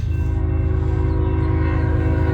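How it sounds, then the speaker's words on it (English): A passing train sounds its horn in a loud, sustained blast over a deep rumbling engine and rolling wheels, heard outdoors near a spring farm equipment auction, with no talking. "Another train."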